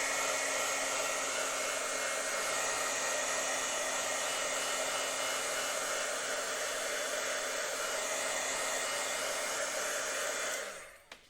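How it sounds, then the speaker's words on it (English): A craft heat tool blowing hot air to dry a damp paper card, a loud steady whirring hiss held close for about ten seconds before switching off. "I'm gonna go ahead and dry it with the heat tool for just a second."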